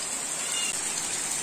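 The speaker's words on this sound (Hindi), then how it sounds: "देखिए कितने जोर से बारिश हो रहा है" Heavy rain falls in a steady, dense hiss that fills the background evenly, with no voices and nothing else standing out.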